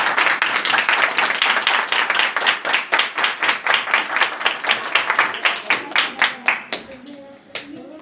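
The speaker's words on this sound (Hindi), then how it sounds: "हम तालियां बजाएं।" A church congregation at a New Year evening prayer service claps together in a steady, rhythmic beat, loud and close, before the clapping thins out and stops near the end.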